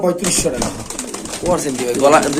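At a pigeon market, Pakistani pigeons keep up a close, continuous cooing, mingled with a voice talking over the birds.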